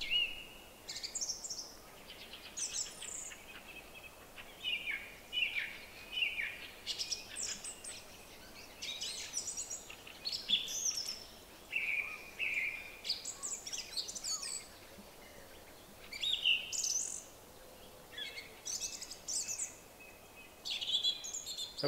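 Many birds chirp and sing in a loose, continuous chorus at dusk on the Swedish island of Öland. The calls are faint to moderate and somewhat distant over a quiet background, with no talking.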